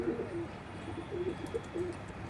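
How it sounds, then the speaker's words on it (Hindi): A newly bought pigeon with freshly opened wings coos in a soft, repeated low rhythm nearby, several rolling calls over a quiet background, without talk. "ये देखो गाइस, ये रहा कबूतर।"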